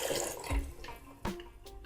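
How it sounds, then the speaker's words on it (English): Water poured into a pot of beans seasoned with thyme and cayenne, a close, steady splashing stream with a couple of brief clunks against the pot. "And now I just add the water."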